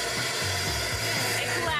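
A powder vacuum on a metal 3D printer runs steadily with a constant high-pitched whine and broad rushing noise, loud and close, with a faint rhythmic thumping underneath.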